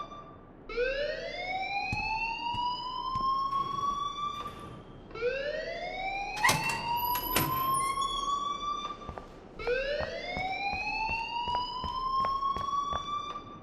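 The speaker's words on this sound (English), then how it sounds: "please turn off that alarm since that's your job" An alarm in the video game Life is Strange wails in three rising, siren-like sweeps that climb and hold steady, with scattered sharp clicks and thumps around them.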